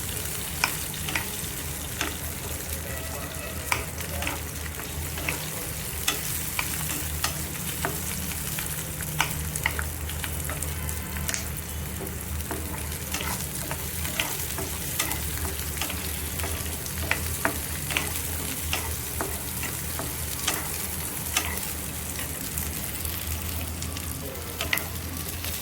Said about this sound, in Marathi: कांद्याला हलकासा ब्राऊन रंग येतो आपल्याला फ्राय करायचं आहे